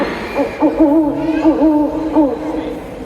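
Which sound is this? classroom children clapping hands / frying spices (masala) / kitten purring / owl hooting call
owl hooting call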